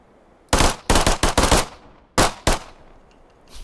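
Gunfire rings out in the zombie video game TAB Zombielator: a loud, close cluster of four rapid shots, a brief pause, then two more.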